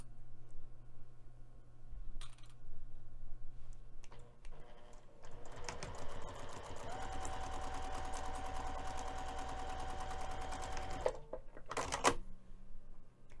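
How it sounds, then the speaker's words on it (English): A sewing machine top stitches a bag's opening closed, running steadily for several seconds with a dense, rapid mechanical whir, preceded and followed by brief clicks and handling noises. "we're going to take this over to the sewing machine and top stitch the opening closed"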